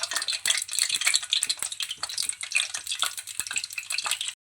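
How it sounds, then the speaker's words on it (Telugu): Lentil batter deep-frying in oil in a kadai gives a dense, steady crackling sizzle with scattered sharp pops and light utensil clicks, close and fairly loud with no voices. "కడాయి పెట్టుకొని డీప్ ఫ్రైకి సరిపోయే ఆయిల్ అయితే వేసుకోవాలి అయ్యాక సిద్ధం చేసుకున్న పప్పునైతే ఇందులో వేసుకోవాలి"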